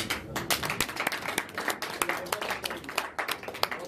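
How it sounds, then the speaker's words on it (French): An audience at a handover of office applauds, with quick, irregular individual claps standing out in a close, fairly small crowd that keeps clapping for several seconds. "ça peut vous l'applaudir."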